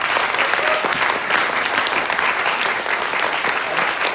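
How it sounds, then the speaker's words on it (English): An award ceremony audience for college instructor, adjunct and staff honors claps in sustained, dense applause, a steady crowd of hands with no pauses. "let's give another round of applause for,"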